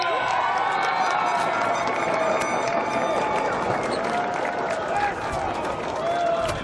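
A loud crowd roars and cheers at a women's Australian rules football grand final between Apollo Football Club and a rival, a dense sustained wall of noise with whistles and shouts throughout.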